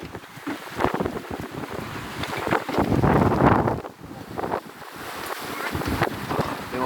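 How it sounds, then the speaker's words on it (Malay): Wind roars across a sailing vessel on day 41 of an ocean passage, loud gusts and wave wash rising and falling in broad surges, with someone talking intermittently over the buffeting. "Angin datang daripada sebelah sini. Berarti ombak sedang balon daripada sebelah sini."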